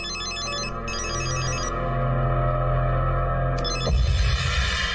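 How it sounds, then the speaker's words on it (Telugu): A telephone ringtone chirps repeatedly in bursts over a steady low hum, with short pauses between ring patterns and a shift in background noise near the end. "ఫోన్ అన్నా"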